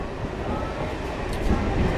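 A train rolls along the Krishnanagar–Amghata rail line, a dense, loud and continuous rumble of wheels and carriages passing close by, with no clear breaks.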